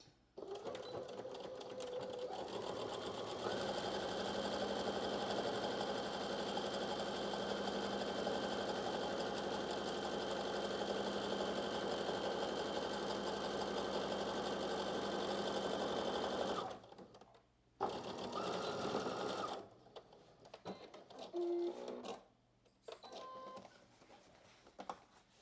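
A home sewing machine runs steadily at close range while stitching a pin tuck on a muslin test garment, whirring continuously for about sixteen seconds before stopping, followed by short bursts of stitching and handling noises.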